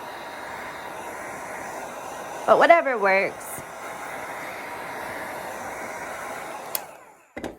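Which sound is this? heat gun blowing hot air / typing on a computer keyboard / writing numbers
heat gun blowing hot air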